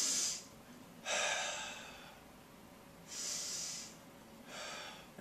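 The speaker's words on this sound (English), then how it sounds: "Make sure you breathe diaphragmatically." Slow, deep diaphragmatic breaths during a rib pull stretch: four airy, hissing breath sounds, close and fairly quiet, alternating inhales and exhales with short pauses between them.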